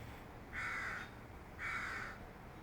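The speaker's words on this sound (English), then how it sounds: "Did you hear the crows in the background" Two drawn-out caws from crows, spaced about a second apart, fairly distant against a steady background hiss, with no voices.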